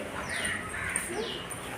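Crows caw amid a gathering of birds during a Marathi school play, a few moderately loud, rasping calls over a busy outdoor background.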